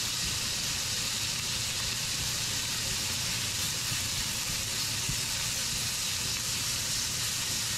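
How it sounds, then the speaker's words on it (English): Ground meat browning in olive oil in a pan gives a steady, loud, continuous sizzle and hiss, close up and unbroken throughout. "I just cook it in a little bit of olive oil, and I brown very, very thoroughly"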